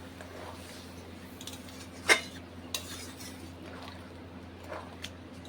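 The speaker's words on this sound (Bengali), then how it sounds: "পাঁচ মিনিট সিদ্ধ করার জন্য আমি ঢাকা দিয়ে দিচ্ছি।" A lid is set on a pot of potatoes and pointed gourd simmering in hot water: one sharp metallic clink, then a few fainter taps and rattles over a quiet kitchen hum.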